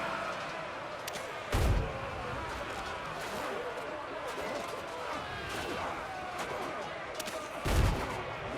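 Two heavy cannon booms from a ship in the video game Windrose land several seconds apart over a busy bed of game ambience and clatter.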